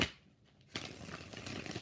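Tarot cards being shuffled by hand, a soft riffling and sliding of card stock that starts after a brief quiet pause and continues steadily, close and fairly quiet.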